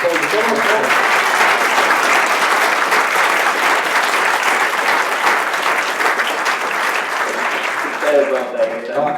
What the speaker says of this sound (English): please, give a final round of applause for Paul